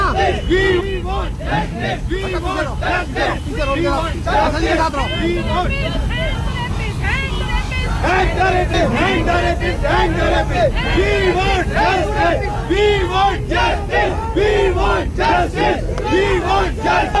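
Crowd of demonstrators at a protest in Delhi shouting slogans in loud rhythmic bursts over a constant roar of voices, with vehicle noise underneath throughout.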